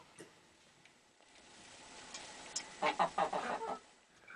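Free-range chickens cluck in a short cluster of close, mid-loud calls toward the end, after a quieter stretch of soft ambient noise.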